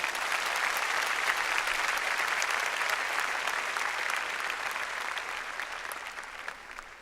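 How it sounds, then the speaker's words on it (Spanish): A church congregation claps hands together in loud, sustained applause that fills the space evenly and tapers slightly toward the end, with no talk over it. "Dele palmas al Señor."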